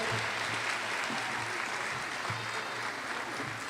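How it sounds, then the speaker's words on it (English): An audience at an honors recognition ceremony gives a steady, fairly faint round of applause that holds evenly for several seconds, with a low murmur of voices underneath. "Why don't we give them another resounding round of applause?"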